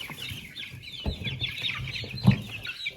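Young chicks of a crested Dominant breed cluck and peep softly in a brooder, a steady scatter of small calls with a few louder chirps standing out near the end.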